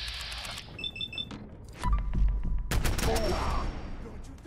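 Pipe auto pistol fire in Fallout 4 comes as a rapid burst of sharp shots mixed with game beeps and chimes, followed by a loud rumbling impact and more clattering shots.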